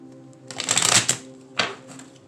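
A deck of tarot cards is shuffled close up in two quick riffling bursts, the first longer and louder and the second brief, over a quiet background.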